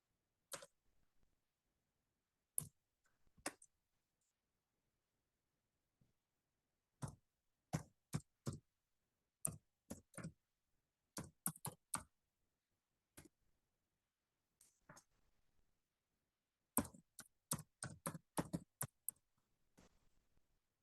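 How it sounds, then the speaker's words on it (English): Crisp plastic key clicks from typing on a computer keyboard, coming in short irregular bursts separated by brief pauses, close and fairly quiet with no talking. "I'm just gonna type it and see how that works."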